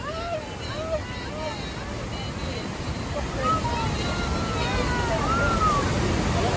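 Rushing water at Kalagala waterfall makes a steady, broad roar. Birds chirp over it and distant voices murmur throughout.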